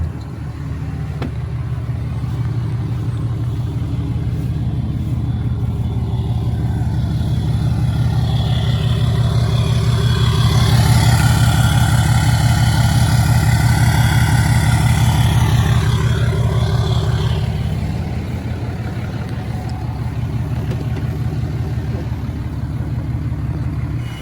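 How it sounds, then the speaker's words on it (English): A truck engine with a deleted exhaust and a freshly cleaned air filter idles with a steady, deep rumble, swelling louder through a long rev in the middle before settling back to idle. "this is gonna be the test of the exhaust"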